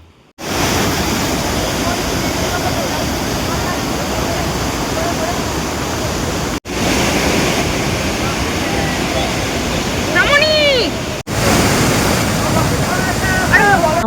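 Water rushing at Sitakunda waterfall, a loud, steady broadband roar heard close up throughout, broken by two brief cuts, with a few faint high chirps near the end.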